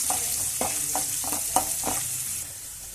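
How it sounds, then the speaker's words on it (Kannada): Chopped onions frying in a pan for a village-style nati chicken sambar, a steady close sizzle broken by several short scraping stirs about every half second. "ಹಾಕೊಂಡು ಕ್ಲೀನಾಗಿ ಫ್ರೈ ಮಾಡ್ಕೋಬೇಕು ಈರುಳ್ಳಿ"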